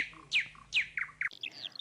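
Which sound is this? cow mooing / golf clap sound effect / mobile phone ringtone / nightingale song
nightingale song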